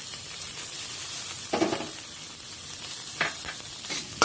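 Grated coconut sizzles steadily in hot tempering oil for moong dal, with a few louder scraping stirs of a spoon breaking through the constant frying hiss.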